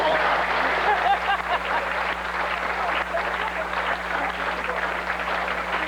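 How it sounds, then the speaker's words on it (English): Audience applause at a school sports awards presentation, moderately loud, continuous clapping over a constant low electrical hum, with faint chuckles mixed in. "Let's give them a big round of applause."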